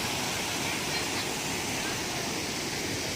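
A waterfall at Garada in hilly country rushes as a steady, loud broadband roar that fills the whole clip without pause.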